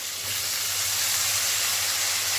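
Steady bright sizzling hiss of ivy gourd hitting hot oil with fried chicken masala, onion and tomato in a home kitchen pan, continuous and close without talk.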